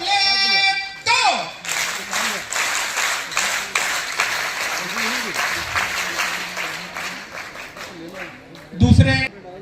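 At a district scout and guide teachers' honour ceremony in Mandsaur, a group performs a scout clap: a crowd beats out fast, regular rhythmic claps for several seconds, with a voice speaking briefly before and after.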